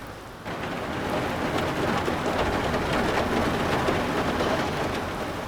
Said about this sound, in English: Oof, with this storm still pelting us.